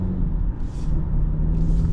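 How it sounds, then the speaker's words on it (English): A 2023 Jeep Cherokee Altitude 4x4 with a 180-horsepower engine gives off a steady low rumble from inside the cabin, with brief airy swells as it accelerates. "Nice sounding engine, has nice speed to it, man."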